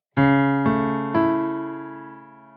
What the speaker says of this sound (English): A first inversion is where the third is the lowest note